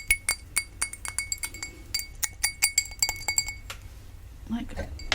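Glass bottles and drinking glasses tapped in a rapid, irregular series of bright, ringing clinks, close and fairly loud, with a few duller knocks toward the end.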